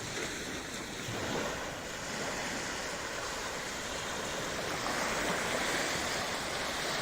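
Surf breaking steadily on the beach at Puerto de Mazarron in Murcia on an evening walk, a continuous wash of waves with some wind, fairly close and even in level, no voices.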